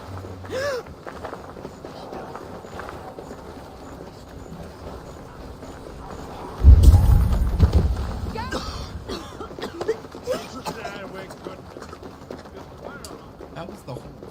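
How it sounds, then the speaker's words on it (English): A burst of hoofbeats thunders in suddenly midway and stays loud for a few seconds over a busy game soundscape, with talking before and after. "That was the horse."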